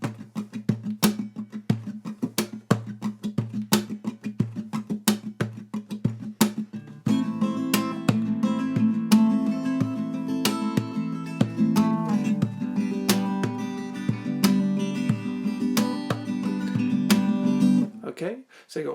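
Percussive acoustic guitar beat, thumped bass hits and slapped snare strokes mixed with strummed chords, steady and close, starting sparse and then fuller with ringing strings for most of the stretch before stopping near the end.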